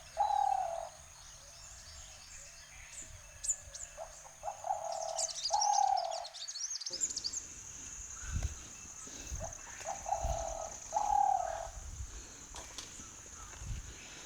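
Jungle birds call back and forth, with repeated cooing phrases from doves and sharper chirps and tweets over a constant high insect-like hiss, moderately near and clear with no talk.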